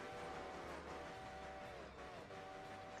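A GN5 chime train whistle in the Railroader video game, with a multi-note chord sounding in two long sustained blasts over a low rumble of rail noise, fairly faint and with no voices.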